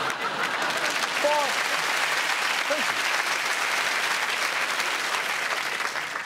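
Studio audience applause on a comedy news show, a steady dense wash of clapping sustained at even loudness throughout, with a brief murmur of voices near the start.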